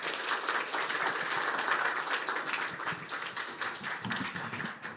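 Sustained applause from a lecture audience at a public talk on building a Moon base, a dense even clatter of many hands that thins slightly toward the end, with no talk over it.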